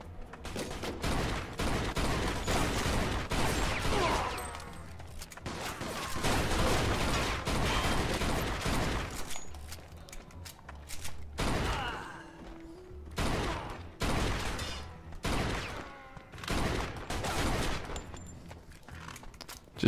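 Fast-firing gun in the video game Mafia 2, long loud bursts of rapid shots broken by short pauses, with clicks and thuds between volleys.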